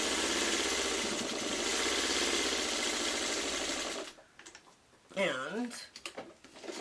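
A sewing machine stitches fabric for a quilt's partial seams, running in a steady close mechanical whir for about four seconds before stopping, after which a voice speaks.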